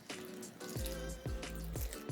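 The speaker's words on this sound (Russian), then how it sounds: "Наливаем воду, 600 мл в кокос." Water, 600 ml, poured into a coconut or coconut shavings, giving a few splashing, gurgling pulses of liquid at close range, alone without talk.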